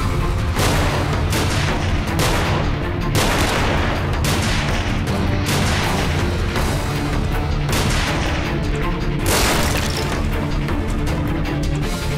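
Dense, continuous bursts of loud gunfire and crashing impacts fill the whole stretch, rapid and chaotic with no pauses.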